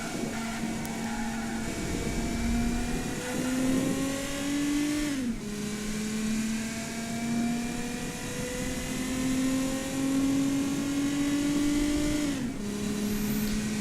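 BattleAxe V200 car in a video game accelerating in final gear near top speed, its engine droning steadily and climbing slowly in pitch, with two abrupt drops around five and twelve seconds, loud and continuous with no talk.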